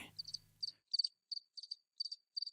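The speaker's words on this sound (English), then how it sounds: "The guests perk their ears, but can only hear crickets chirping." Crickets chirp in short, evenly spaced trilling bursts against near silence, a faint low rumble fading at the start.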